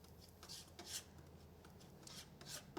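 Palette knife mixing yellow ochre acrylic paint: quiet, close scraping and smearing strokes in short bursts, a few soft rasping swipes with pauses between.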